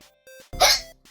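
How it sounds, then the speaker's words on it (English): One abrupt hiccup-like gulp, a short sharp burst in an otherwise quiet moment, surrounded by faint tonal sounds. "I get the hiccups."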